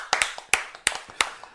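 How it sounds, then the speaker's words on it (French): A small audience at a French stand-up comedy show applauds a guest comedian with a few loud, distinct hand claps in a quick, uneven rhythm, close and clear with nothing else over them. "Et on peut t'applaudir"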